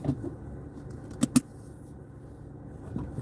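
Heard from inside a moving car, a low steady road rumble and engine hum hold throughout, broken by two sharp clicks near the middle.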